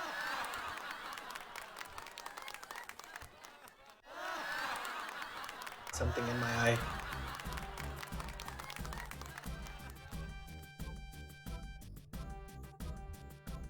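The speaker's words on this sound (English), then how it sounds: "The audience has never applauded this much." Audience applause from the Legend of Legaia video game, a broad crowd-clapping wash under game music and brief voice blips, fairly steady with a small swell midway.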